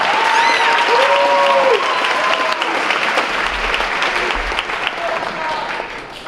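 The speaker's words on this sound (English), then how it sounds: "how about a big round of applause for Mr. Andy Pishka" A banquet audience gives a sustained round of applause for Mr. Andy Pishka, loud and dense throughout, with whoops and cheers rising over the clapping early on before it slowly thins.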